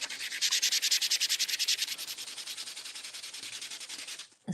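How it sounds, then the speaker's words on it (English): Paper edges being sanded during a crafting session, a quick rhythmic scratchy rubbing that starts strong and steady, then softens and trails off near the end, close by with no talking. "I think that sanding the edges,"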